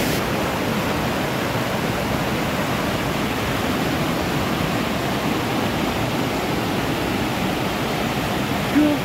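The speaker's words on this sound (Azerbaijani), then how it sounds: "İndi o şəlaləni görməyə gedirik." Pazmari waterfall at peak flow roars as a steady, dense wash of falling water, loud and unbroken throughout, with no voices standing out.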